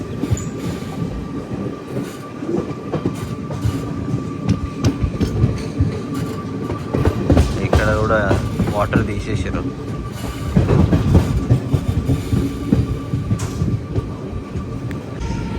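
Narsapur Express rolls along the rails with a steady rumble and rhythmic wheel clatter, brief metallic squeals rising midway, while someone talks over the noise.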